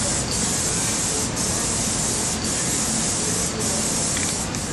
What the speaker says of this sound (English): That's the first coat of base coat. We're going to do one more coat and then clear coat.